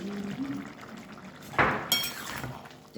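Boiled chickpeas tumble into a pan of cooked mixed vegetables, giving a brief clatter and scrape of metal around the middle, followed by a quieter clink.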